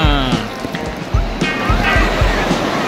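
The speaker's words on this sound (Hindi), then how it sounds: "बड़ा लहर आ रहा, बड़ी बड़ी लहरें आ रही हैं" Ocean waves wash in at Digha beach, a close, continuous rush of surf and splashing water, with voices talking and calling over it.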